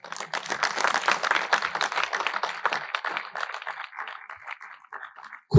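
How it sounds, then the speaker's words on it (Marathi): Audience applause at an award ceremony for a hotel businessman in Mahad, dense sustained clapping from a crowd that thins slightly toward the end, with no talk over it. "जोरदार टाळ्या वाजवा."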